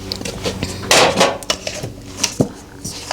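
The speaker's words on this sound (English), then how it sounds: "You need a mixing bowl." A large Tramontina mixing bowl knocked and set down on a kitchen counter, giving several hard clattering knocks with a brighter rattling burst near the start, close and fairly loud with no talking.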